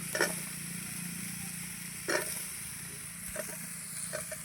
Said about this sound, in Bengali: বেগুন আর শিমটা দিয়ে আমি আরেকটু ভেজে নেব।